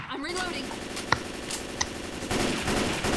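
Several M16 rifle shots in the Left 4 Dead 2 zombie shooter, sharp cracks spaced apart over game noise and a steady background hum, with a louder burst of activity toward the end.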